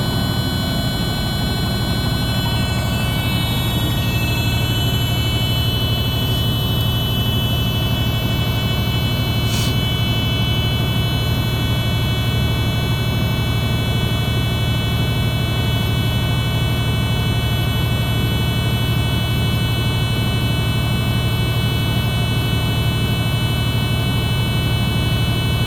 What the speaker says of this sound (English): So I'm putting my foot on the throttle, I'm gonna build it to 60 PSI